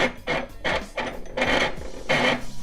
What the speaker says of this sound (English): Put the stem into the base, sliding it down and screwing it